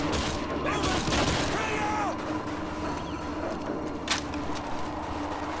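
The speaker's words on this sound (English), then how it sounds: "Those explosions are going to attract a lot of attention" In a combat video game, gunfire and explosion blasts pop against a busy background of engine rumble and mechanical noise, with a few louder cracks standing out, all heard at moderate level.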